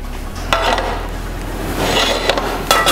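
Torn Kaiserschmarrn pancake is tipped back into a frying pan on the stove, with a few sharp metallic clanks and scrapes of utensil against pan over a low hum.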